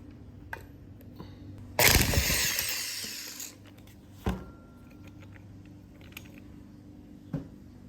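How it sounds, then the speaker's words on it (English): A Milwaukee impact wrench fires one loud, close burst of roughly two seconds on a Lawn Boy 3052 mower flywheel, followed by a few scattered metallic clanks in a quiet workshop. "Got my impact Milwaukee impact wrench here."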